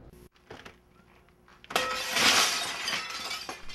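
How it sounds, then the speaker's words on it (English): Glass shatters and metal twists during demolition of business buildings along 3500 South in West Valley, a loud crashing burst after a quieter stretch of machinery rumble, with debris clattering on and no voices. "The sound of breaking glass and twisting metal fill the air as West Valley businesses prepare for progress."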